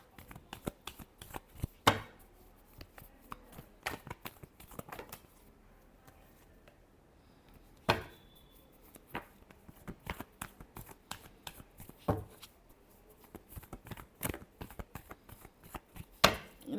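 Tarot cards being shuffled by hand in repeated riffling bursts, with sharp snaps at intervals and quieter shuffling in between, close and fairly soft with no talk.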